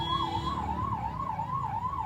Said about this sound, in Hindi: एक एम्बुलेंस आप देख रहे हैं फंसी हुई है, ट्रैफिक जाम उसमें फंसी हुई है।